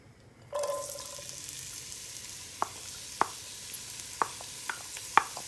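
Chopped onions sizzle steadily in olive oil in a pot. The frying hiss starts abruptly and holds, with a few sharp clinks of a utensil against the pot as they are stirred.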